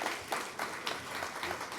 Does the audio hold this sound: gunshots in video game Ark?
no